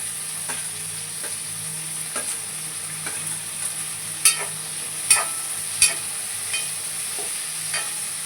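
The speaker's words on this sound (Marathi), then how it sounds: "आता आपण त्याच्यामध्ये कांदा आणि टमाटर घालूया. याला पण छानसं भाजून घेऊया." Onion and tomato fry in a pan with a steady bright sizzle, broken by occasional sharp taps and scrapes of a spoon stirring, close and moderately loud, with no speech.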